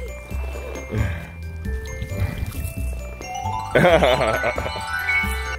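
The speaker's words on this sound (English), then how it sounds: "Look at that water coming out." Water sprays out of a homemade DIY backyard waterpark for kids, a steady splashing and trickling rush that runs throughout, with voices talking and laughing over it.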